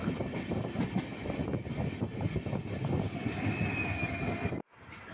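The Mysuru-Shirdi Express pulls out of Chikkajajur junction with a steady, loud rumble of wheels and rolling carriages, a faint tonal whine rising near the end before the sound cuts off abruptly, with no talk.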